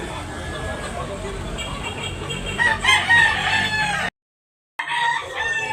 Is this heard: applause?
no